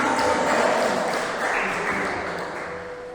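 A church congregation applauds, a broad wash of clapping that stays steady and gradually fades, with a faint tonal ring and murmur in the background.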